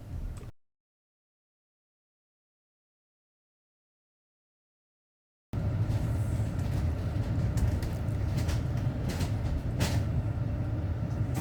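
Interior rumble of a bus travelling a Stagecoach route near Stretton under Foss over the M6, a steady broadband engine and road drone after a brief gap of silence, with no voices.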